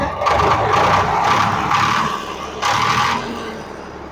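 Old Swaraj tractor diesel engine running close by, a steady mid-pitched engine drone with a slight rise and dip in loudness, alone without talk.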